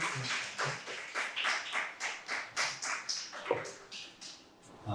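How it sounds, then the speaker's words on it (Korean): An audience at an AI technology conference claps steadily in an even, rhythmic beat to welcome a presenter, with the crowd moderately close and continuous for several seconds. "박수로 맞아주세요"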